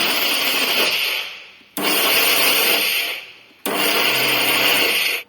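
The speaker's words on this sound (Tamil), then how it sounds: "இப்படி விட்டு விட்டு பல்ஸ் மோடில் அரைச்சி எடுத்துக்கலாம்" A mixer grinder in pulse mode grinding peanuts, sesame, jaggery and cardamom: three loud, whirring bursts, each starting abruptly and then winding down, with short gaps between.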